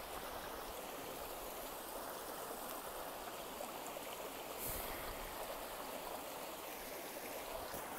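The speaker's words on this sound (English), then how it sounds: "Here's the water I was hearing." A small stream flows beside a hiking trail where the Appalachian Trail meets the Virginia Creeper Trail, giving a steady, close rush of running water that continues evenly throughout with no voices.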